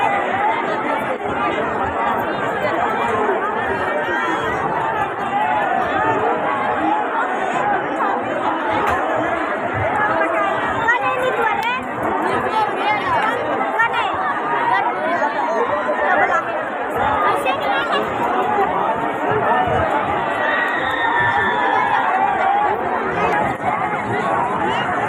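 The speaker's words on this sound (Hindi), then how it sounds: "देखिए टावर झूला पर कितना भीड़ है।" A dense crowd chatters nonstop around a tower swing ride at a fair, a loud, steady hubbub of many overlapping voices with shouts now and then and no pauses.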